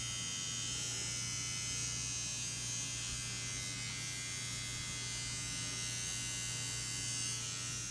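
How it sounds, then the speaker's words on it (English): An Ez Tattoo Nano tattoo machine runs with a cartridge fitted, giving a steady, close electric buzz with a low mains-like hum and bright high whine, constant and uninterrupted throughout with no talking. "it has that coil-like sound, and it does have significantly more vibration when we have a cartridge in there running"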